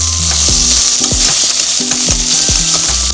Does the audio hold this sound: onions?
yes